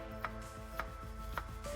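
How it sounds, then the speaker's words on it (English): Sharp knife slicing halved onions on a board, three crisp chops spaced about half a second apart with steady background hum between, close and clear. "slice the onions like this using a sharp knife"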